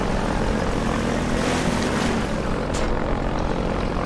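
Helicopter in Half-Life 2 roars loud and close with a constant thrumming rotor and engine drone, broken briefly by a sharp swish near the end.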